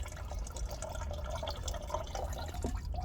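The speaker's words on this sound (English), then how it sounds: "pour all the water in that" Water poured by hand into a rose plant pot, a continuous splashing trickle with small drips and gurgles, close and fairly quiet, no talk.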